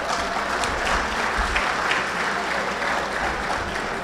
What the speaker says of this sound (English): a round of applause for WHBS and Daria